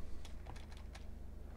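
Fast, light keyboard typing runs through the first second in several quick bursts of key taps, then tails off into a low steady background hum; no one speaks.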